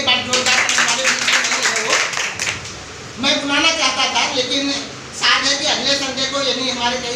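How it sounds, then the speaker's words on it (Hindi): Audience at a group planning meeting breaks into bursts of clapping, dense and fairly loud, in several waves with short pauses between, with a voice speaking over parts of it. "उनके लिए भी एक बार जोरदार ताली।"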